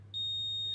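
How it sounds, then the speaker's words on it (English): A fire alarm in a commercial building with an old switchboard under upgrade gives a single steady high-pitched electronic beep that starts abruptly and holds, fairly faint, with no talking. "That's the fire alarm beeping there"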